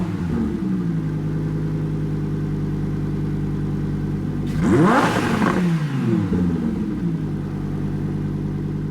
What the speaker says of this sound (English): That definitely sounds like a V10 engine to me.